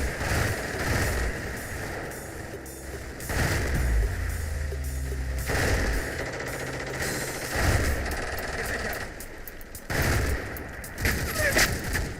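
Wartime gunfire in the Combat Mission game, Bren light machine guns and 60mm mortars against entrenched British troops, rapid bursts and booming shots recurring in waves across the whole stretch, loud and sustained.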